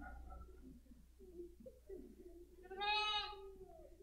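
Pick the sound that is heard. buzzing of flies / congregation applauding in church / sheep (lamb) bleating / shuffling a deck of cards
sheep (lamb) bleating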